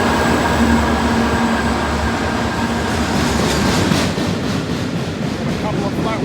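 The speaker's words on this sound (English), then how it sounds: "By the sounds of it, we got ourselves a freight train." A freight train rumbles past on the rails in Melbourne, loud and close, with a steady clattering roar and occasional rhythmic wheel clacks from flat wheels over several seconds.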